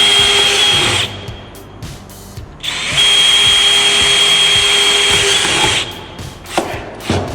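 A power drill runs loudly in two long bursts, whirring into wood, with a quieter gap between and clattering handling noises at the end.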